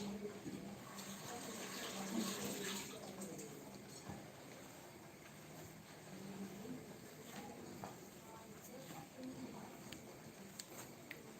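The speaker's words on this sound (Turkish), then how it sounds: "Bir ellerimi yıkayayım yoksa çekerim mahvolacak." Running tap water splashing over hands at a kitchen sink while making şekerpare, a steady broadband rush lasting throughout with a brief louder burst early on, under faint background speech.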